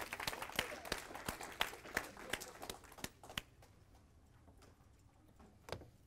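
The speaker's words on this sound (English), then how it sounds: "Can we give him a round of applause for good ripping skills?" A small seminar audience gives a brief, sparse round of applause, distinct individual claps fading out after a few seconds into quiet with a couple of stray claps.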